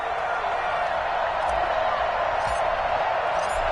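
NFL stadium crowd before a Cincinnati Bengals vs Miami Dolphins game, a broad continuous roar of cheering from a distance, with an announcer talking over it.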